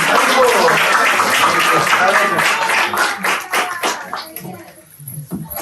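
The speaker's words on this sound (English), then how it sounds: "round of applause to Paresh Prabhu and Khushbu Mataji" Applause from an audience at a Bhakti Vriksha devotional cultural program, a dense wash of clapping that holds steady and loud, then thins into scattered claps toward the end.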